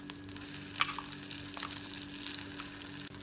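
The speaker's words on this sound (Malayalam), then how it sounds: "ബട്ടർ ഉരുകുമ്പോൾ അതിലേക്ക് അരച്ച് വെച്ച ഈ ഗ്രേവി ചേർക്കാം." Ground curry gravy hits melted butter in a hot pan, giving a steady close sizzle and frying hiss with a brief clink near the start.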